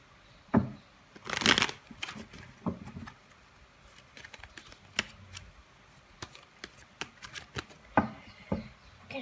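A deck of cards being shuffled by hand at close range, with loose riffles, flicks and soft taps coming in uneven bursts, and no talking.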